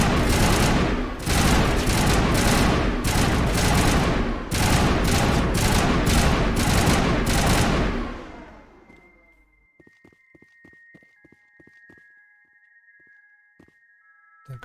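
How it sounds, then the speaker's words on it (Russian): Gunfire in Mass Effect: loud sustained bursts of automatic weapon fire in repeated volleys for about eight seconds, then cutting out into near-silence with only faint scattered clicks and a quiet tone. "А то слишком громко стреляет."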